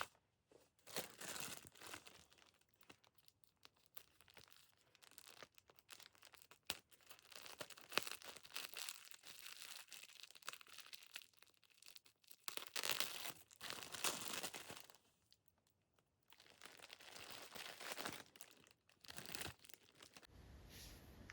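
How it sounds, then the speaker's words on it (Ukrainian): A small plastic gift packet from an advent calendar is crinkled and torn open close up. Quiet rustling and crackling comes in irregular bursts with short pauses over about twenty seconds, and no one speaks. "І зараз буду відкривати наступний пакетик."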